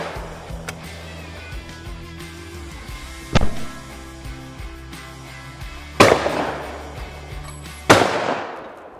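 Shotgun blasts at clay targets ring out outdoors: one sharp report, then two louder booming shots about two seconds apart, each with a lingering decay over a low background hum.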